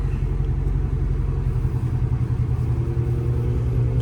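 A Chrysler 300C with a catless straight-pipe exhaust cruises along, its engine giving a loud, steady low rumble heard from inside the car with a slight pulsing texture.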